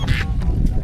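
A duck quacks a couple of times up close, harsh nasal calls over a low background rumble.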